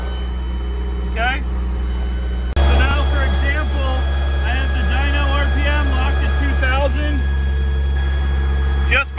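A turbocharged Mazda Miata engine runs on a dyno, idling low before surging into sustained revving that rises and falls with throttle sweeps, loud and close, with a speaking voice over it.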